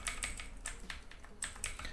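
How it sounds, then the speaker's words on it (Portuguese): Sharp, light clicks of arrow keys pressed on a computer keyboard while nudging an object pixel by pixel in Photoshop, several quick taps in an irregular rhythm, close and fairly quiet. "Com as setinhas do teclado, estou posicionando mais fino."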